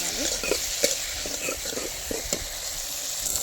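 Chopped onion and tomato stirred in a hot pan, a steady close sizzle punctuated by a series of quick spatula scrapes and taps at an uneven rhythm, no talking.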